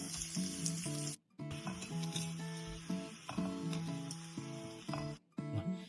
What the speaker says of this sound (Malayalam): ഇതും കൂടെ ഒരു കുറച്ച് എണ്ണയൊഴിച്ച് ഇതൊന്ന് വഴറ്റിയിട്ടാണ് ആ പൊടിക്കുന്ന മസാലകളിലേക്ക് ഇടുന്നത്